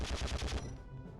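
Rapid automatic gunfire in the video game Conflict Desert Storm, about six quick evenly spaced shots in a loud burst that then stops and leaves a ringing tail.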